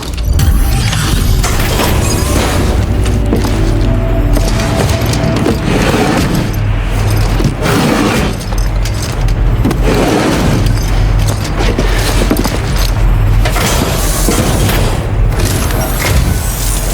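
A drawbridge mechanism in Death Stranding 2 operating with deep, loud booming rumbles and heavy mechanical clanks that swell and recede in waves over a continuous low drone.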